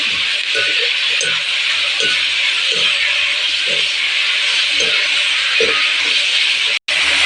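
Shallots sautéing in a pan for a homemade chicken curry: a steady, loud sizzle and hiss with faint stirring knocks at a loose, regular beat, with no talking.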